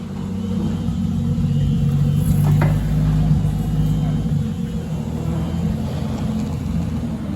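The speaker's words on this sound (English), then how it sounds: "the car's rolling on the dyno right now" A turbocharged Nissan S13 with a swapped 2JZ-GE engine from an IS300/GS300 turbo kit runs on a dyno, giving a steady, deep, droning engine rumble with a slight rise in revs partway through. No voices are heard.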